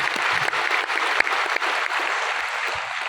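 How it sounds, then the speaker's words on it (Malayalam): An audience at an indoor business program in Ernakulam claps for Asif, a dense, steady round of applause from many hands lasting a few seconds. "നല്ലൊരു കൈയടി ആസിഫിന് വേണ്ടിയാണ്."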